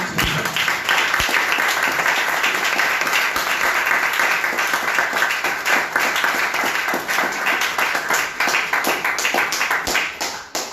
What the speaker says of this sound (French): On acclame encore le Seigneur.